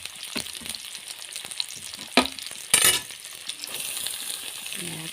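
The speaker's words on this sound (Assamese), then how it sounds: "ইয়াৰ লগতে ভাজিম।" Banana flower and radish frying in a pan with ginger, garlic and onion, giving a steady crackling sizzle with a few sharp clinks of the utensil against the pan. There is no talking.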